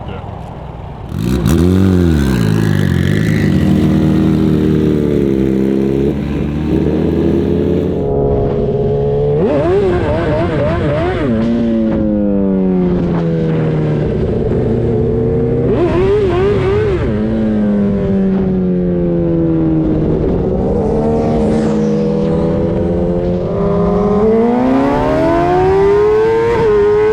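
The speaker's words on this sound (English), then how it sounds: "I dropped clutch and it started revving" A street-racing motorcycle engine revs hard and loud, up close, with repeated surging rises and falls in pitch and a steady roar through nearly half a minute.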